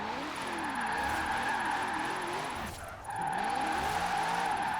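A new Corvette drifting and spinning out in the racing game Forza Horizon 4, with the engine revving hard and wavering in pitch over a steady tire squeal, a brief dip midway, then the squeal resuming.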